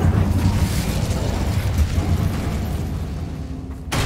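Fire spells Confringo and Incendio exploding in a wizarding video game, heard as a sustained loud roaring blast with dense crackling rumble throughout, fading slightly before an abrupt cut near the end.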